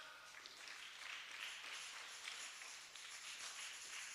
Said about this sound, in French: On acclame, on acclame.